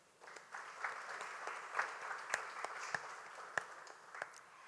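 An audience at a national arts and culture awards ceremony gives a round of applause, heard faint and distant. Steady clapping carries a few sharper individual claps standing out through the whole stretch.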